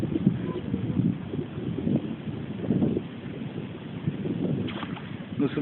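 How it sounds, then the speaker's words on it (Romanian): A small boat makes a turn on a lake near an island, with a steady low rumble and splashing churn of water under gusty wind noise, continuous and close throughout. "Dai rotă cu barca."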